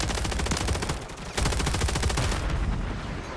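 Rapid automatic gunfire from a Call of Duty Modern Warfare 3 match, likely an AMR9 loadout, rattling continuously at close range with dense overlapping shots, easing slightly toward the end.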